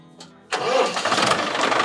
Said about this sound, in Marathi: हा आमचा ट्रॅक्टर.